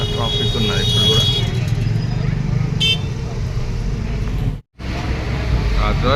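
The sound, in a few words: heavy night road traffic near Charminar, Hyderabad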